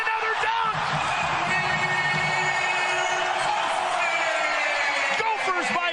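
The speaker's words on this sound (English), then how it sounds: "Crowd comes to its feet." Basketball crowd at a Minnesota Gophers game roaring and cheering after a dunk, a loud sustained wash of voices with whoops under a commentator talking over it.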